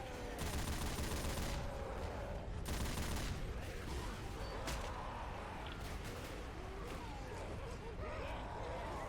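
A machine gun fires in the zombie video game Left 4 Dead: dense, continuous bursts of game gunfire, loud and unbroken throughout, with other in-game action mixed in.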